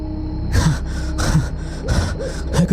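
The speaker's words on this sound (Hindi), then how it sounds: "वो एकदम से हाँफता हुआ अपने बिस्तर पर उठकर बैठ गया।" A man gasps awake in bed, drawing several sharp, loud, ragged breaths in quick succession, close and alone, like a frightened start from sleep in a horror tale.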